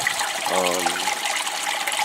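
Water trickles and gurgles in an aquaponics system, a continuous light splashing flow with a brief bubbling surge partway through, no voices present.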